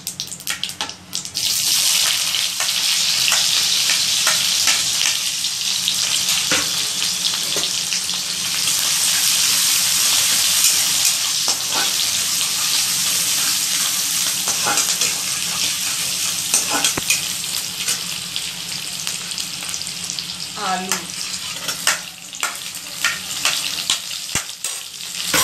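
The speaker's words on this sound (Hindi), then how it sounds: "गरम हो गया फिर हम इसमें डालेंगे ऑनियन" Chopped onion sizzling loudly in hot oil with cumin and mustard seeds in a pan, a steady bright close frying hiss lasting throughout, with occasional stirring clicks and pops.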